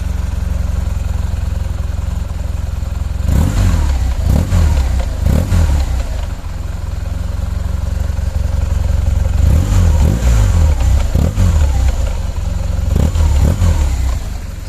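A 2008 BMW R1200 GS Adventure motorcycle on its original stock exhaust, revved in two clusters of sharp throttle blips over a deep, steady idle, loud and close with no talking.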